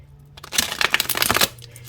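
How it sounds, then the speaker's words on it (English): A deck of tarot cards is shuffled once in a quick riffling burst lasting about a second, close and crisp against a quiet room. "I'll give it one more shuffle."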